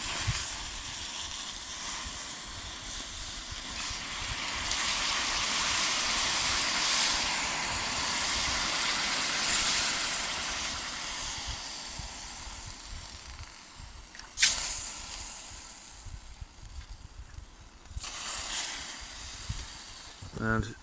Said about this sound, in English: we'll just pour the rest out over this fire because we don't need it anymore.